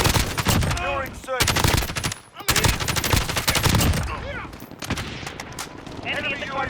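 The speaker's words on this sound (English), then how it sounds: "We're taking fire." Modern Warfare 2 gameplay with rapid bursts of automatic gunfire, loud and close, broken by short gaps, as in-game voices call out over the shooting.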